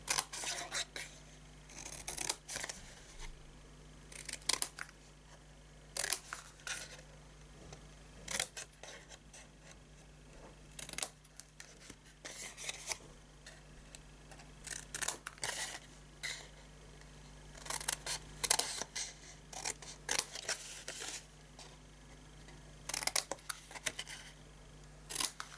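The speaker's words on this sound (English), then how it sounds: "cut yourself a wedge off here, cut the little nick out of there. Same over this side." Scissors cutting card for a book-style gift box: repeated short, crisp snips at close range, in scattered bursts with quiet pauses between.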